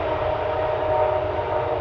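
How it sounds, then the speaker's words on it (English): A train passes nearby, giving a steady, loud rumble with a sustained horn-like tone running through it, and no one speaks. "There's a train coming."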